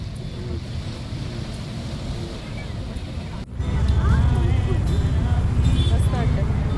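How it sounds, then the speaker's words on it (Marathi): Sea waves wash against the shore at Mumbai's seafront late at night, a steady broadband rumble that grows fuller and louder partway through, with wind buffeting the microphone and people talking nearby. "तर आज आम्ही आलेलो आहे समुद्र बघायला."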